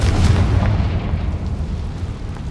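The Confringo blasting spell in Hogwarts Legacy explodes with a heavy, booming blast, a deep rumbling burst that lingers and fades over a couple of seconds with no talking.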